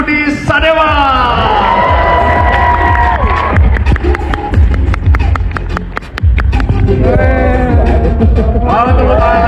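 Loud crowd cheering and shouting with a run of rhythmic clapping as an audience welcomes Indonesian finance minister Purbaya Yudi Sadewa, with excited voices rising and falling throughout.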